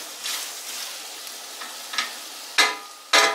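Chopped onion sizzling in a frying pan, cooking until translucent for a Polish żurek soup; a steady soft sizzle broken by several louder stirring bursts near the end, with no talk.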